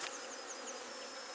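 A steady, close honey bee buzz hums continuously around a swarm nucleus hive, with a few passing whines as individual bees move nearby.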